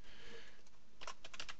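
Typing on a computer keyboard, with quiet, soft key clicks at first and then a brief cluster of sharper taps near the end, close and faint.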